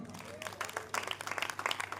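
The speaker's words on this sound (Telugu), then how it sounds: "గట్టిగా చప్పట్లు కొడదాం." An audience in a church breaks into brief, scattered applause, quiet and somewhat distant, swelling over about a second.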